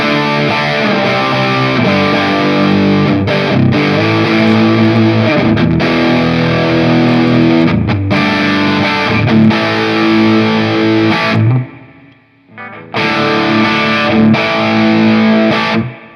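An electric guitar plays chords through a Big Joe Empire Dual Overdrive pedal set for distortion, loud and saturated, with a short drop into near silence before the playing resumes.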